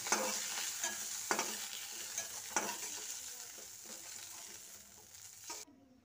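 Cauliflower florets frying in oil in a pan, a steady bright sizzle broken by a few sharp scraping clinks of a utensil as pieces are stirred and lifted, fading slightly before stopping abruptly.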